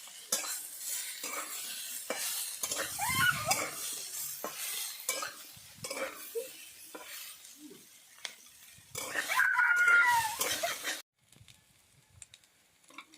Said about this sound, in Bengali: ভালো করে আলুটাকে নেড়ে নেওয়া হয়েছে, রস খাঁচিয়ে নেওয়া হয়েছে, তারপর পেঁয়াজটা দেওয়া হচ্ছে